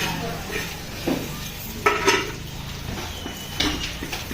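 Dishes and pots clatter during household cleaning before the Dussehra festival, with scattered metallic clinks and knocks close by, several sharper bursts standing out, and a voice talking faintly in the background.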